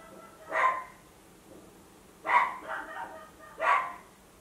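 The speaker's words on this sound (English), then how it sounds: "My neighbor's dogs are the absolute worst." Neighbor's dogs bark three times at spaced intervals, each a short, mid-distance woof that stands out against a quiet background.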